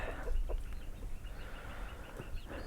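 Homestead chickens cluck in short, scattered bursts close by, with soft farmyard background noise and no talking.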